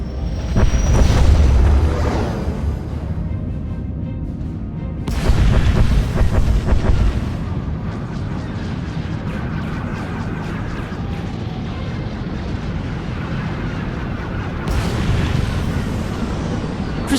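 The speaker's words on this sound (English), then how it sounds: "Proceeding with bombardment, targeting all major population centers." Starships bombarding a planet in the Star Wars: The Old Republic game, with heavy booming explosions rolling in waves over a continuous low rumble, loud and close, with sharp blasts recurring every few seconds.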